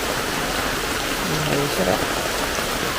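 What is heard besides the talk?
rain falling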